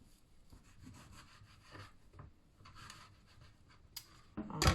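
Kitchen knife slicing and scraping across a wooden cutting board while preparing a rolled ham dish, with soft rubbing strokes and a louder, close knock-and-scrape burst at the end.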